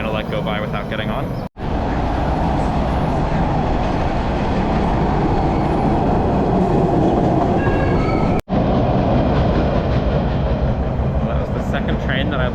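Loud, continuous roar of a subway train on Boston's T rolling by up close, steady throughout with brief clattering breaks in the rumble.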